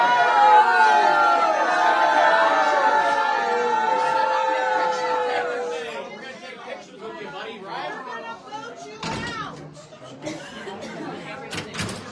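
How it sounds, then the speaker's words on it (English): A crowd at a town hall in Oakley, Kansas boos and jeers loudly, a sustained wave of raised voices that fades into scattered chatter and a few knocks. "Funny how he was upset by the booing,"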